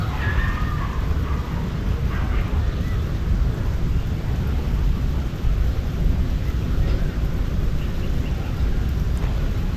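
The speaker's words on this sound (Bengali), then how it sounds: "ফুলটা হাওয়াতে নড়ছে" Steady wind gusting outdoors around a flower, a continuous low rumble of buffeting across the mic with no clear breaks, loud and constant throughout.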